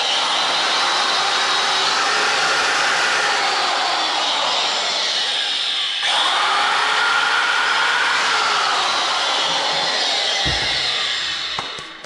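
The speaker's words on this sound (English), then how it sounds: "how to fix a Makita angle grinder" A repaired Makita angle grinder runs loud and steady up close with a whining motor hum, holding speed for several seconds before beginning to spin down at the end.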